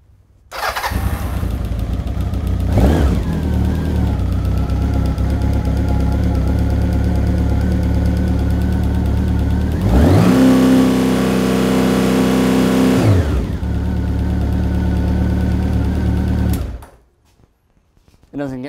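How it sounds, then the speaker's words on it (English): A motorcycle engine with freshly synchronized carburetors idles steadily, then the throttle is snapped open for a sharp rev around the middle that falls back to idle before cutting off near the end. "let's see how it does after I snap the throttle back."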